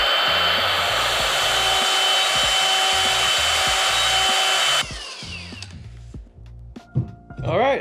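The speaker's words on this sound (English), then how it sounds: "The die grinder worked pretty good too." A die grinder shapes a hole bored with a 5/8 drill bit, giving a loud, steady high-pitched whine for about five seconds before cutting off, followed by quieter handling noises and a brief voice.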